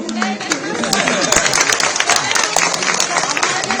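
Crowd applause with scattered clapping at an outdoor public meeting in Delhi, dense and steady throughout, with voices and chatter mixed in.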